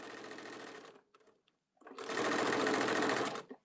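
A sewing machine stitching a tote bag handle runs in two bursts, a short run, a brief pause with faint clicks, then a longer loud run before stopping, close up.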